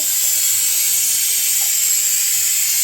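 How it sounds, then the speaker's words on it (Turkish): A steam cleaner blasting stove grates gives off a continuous, even, loud hiss of steam, close up, with no voices over it. "ocağı, ocağın demirlerini şöyle buhar makinesiyle temizliyoruz"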